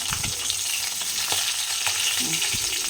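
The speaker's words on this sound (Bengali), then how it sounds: "মাছের মাথাটা মোটামুটি ভাজা হয়ে এসছে ভালো করে না ভাজলে আবার আঁচটা গন্ধ লাগে" A fish head fries in hot oil in a pan, giving a steady close sizzle throughout with occasional stirring scrapes.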